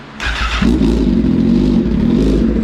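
Honda CBR1000 SP motorcycle with an Acro full exhaust idling up close, its engine note surging and rising in a steady low rumble with no voices.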